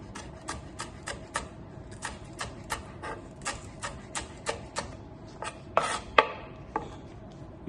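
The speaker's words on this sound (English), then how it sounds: "we want to just coarsely slice the spring onions" A knife coarsely slices spring onions on a chopping board, giving a steady run of crisp, close cuts roughly every half second, with a couple of louder chops near the end.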